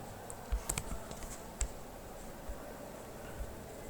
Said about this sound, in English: We can type command here, git command